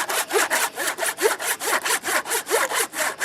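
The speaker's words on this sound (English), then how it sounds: "There's a layer of copper gasket on either side and probably asbestos or something equally dangerous in the middle, so that's what the saw is cutting through." A hand saw cuts through the copper-faced head gasket of a Bovaird and Seyfang engine, with about thirteen even back-and-forth strokes rasping steadily and close, with no voices.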